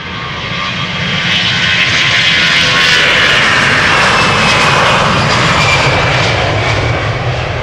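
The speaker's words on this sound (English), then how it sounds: "Air France flight 1341, A321 on its way to Paris-Charles de Gaulle." An Air France A321 jet departing Amsterdam Schiphol for Paris-Charles de Gaulle roars close by, swelling quickly into a loud, sustained engine blast with no voices.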